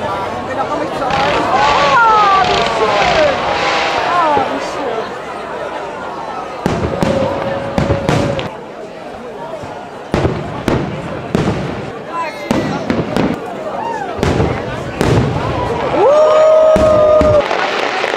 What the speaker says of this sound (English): I think the fireworks are about to start.